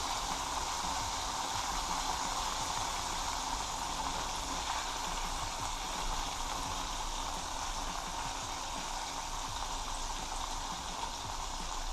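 A steady, dense sizzling hiss of chicken frying in a covered pot, constant and fairly loud throughout with no voices.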